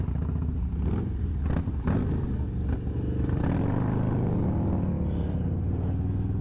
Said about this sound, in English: So those guys are driving some old Dynas